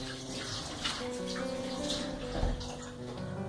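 Hot water runs steadily from a tap while a kitchen knife is rinsed clean of chocolate between fudge slices, a continuous close splashing stream with a few clinks.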